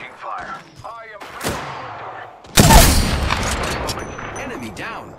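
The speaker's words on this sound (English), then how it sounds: "Taking fire." Gunfire in the Apex Legends video game, a sharp burst near the middle followed by sustained rattling and impacts, with game voice lines and effects around it.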